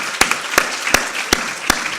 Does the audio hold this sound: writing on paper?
no